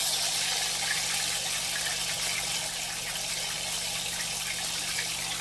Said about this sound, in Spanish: Como ya está el aceite, se pone la tortilla con la salsa.